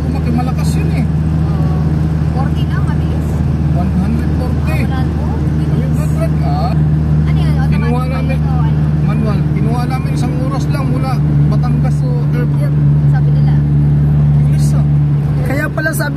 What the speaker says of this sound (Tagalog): Mabilis yung sasakyan mo eh.